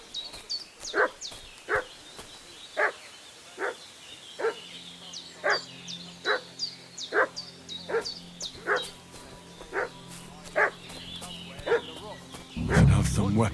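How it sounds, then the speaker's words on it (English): A dog in Kingdom Come: Deliverance II barks over and over in an agitated way, about a dozen sharp barks at a fairly steady rhythm, with a low background hum and a louder burst of noise at the end. "What's that dog making such a fuss about?"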